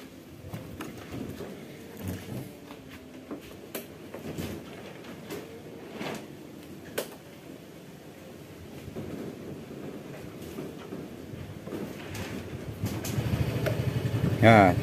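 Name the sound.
Yamaha Fazzio scooter engine starting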